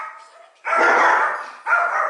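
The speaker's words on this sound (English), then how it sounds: "That's why the dogs are barking." Dogs on a family farm bark in two loud, rough bursts close by, with a quieter whine before them and no talking.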